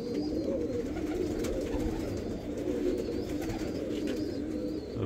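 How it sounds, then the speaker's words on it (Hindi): Teddy pigeons coo in a low, continuous throaty murmur close by, with a few faint higher chirps above a steady busy background and no talking. "माशाल्लाह बहुत खूबसूरत कबूतर हैं।"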